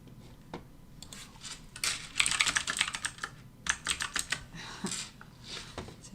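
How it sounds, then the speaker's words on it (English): Rapid clicks from a clicky computer keyboard come in uneven bursts, close and crisp, with short pauses between flurries of keystrokes and a quiet room behind. "So if you get the clicking on my computer, I have a clicky keyboard."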